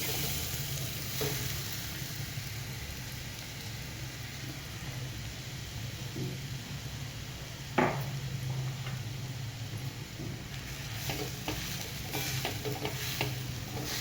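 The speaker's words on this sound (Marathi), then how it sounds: "अजून एक चमचा तूप टाकून घेऊया आणि हा रताळ्याचा खीस खिसलेला पण ह्याच्यामध्ये भाजून घे" Grated sweet potato fries in ghee in a pan, giving a steady, soft sizzle throughout with occasional stirring scrapes and one sharper knock near the middle, no voices.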